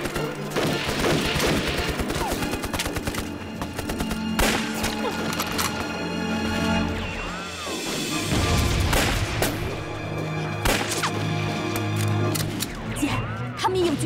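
Sniper rifle shots ring out in a war drama battle scene, with sharp bursts of gunfire mixed into a loud dramatic score and shouting voices.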